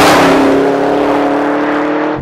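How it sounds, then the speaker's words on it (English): A Chevrolet Camaro ZL1 crossing the start-finish line on a race track, its engine roaring loud and close with a steady, strong drone that holds for about two seconds before easing slightly at the end. "Crossing the start-finish line in the Camaro ZL1."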